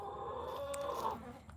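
Chickens clucking in a coop, a few close, soft clucks and a drawn-out call over quiet background noise.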